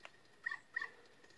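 Dog in the video game The Legend of Zelda: Ocarina of Time, two short high-pitched yips spaced a beat apart over a quiet game background.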